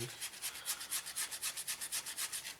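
Close, steady back-and-forth scrubbing over a 1/32 Eduard Messerschmitt Bf 109E-3 model kit as weathering is rubbed off its surface, an even rhythm of about five or six soft rasping strokes per second with no talking.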